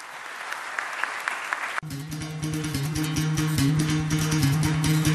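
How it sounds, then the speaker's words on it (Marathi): An audience claps for a students' song at a college entertainment program, steady dense applause that swells and holds loud throughout, with music tones running beneath it. "त्याबरोबर त्यांच्याबद्दल टाळ्या वाजवाव्या"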